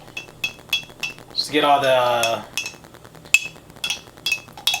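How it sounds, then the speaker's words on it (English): A spoon stirs a michelada made with tomato juice in a glass, giving repeated light clinks and taps against the glass, with a short burst of pouring or mixing noise midway and a brief spoken phrase. "And then what I'm going to do is I'm going to stir it."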